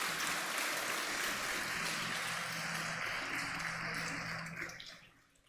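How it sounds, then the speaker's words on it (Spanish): A church congregation applauds God during a sermon, a steady wash of distant, diffuse clapping that holds evenly for several seconds and then tapers away. "Denle un aplauso a Dios"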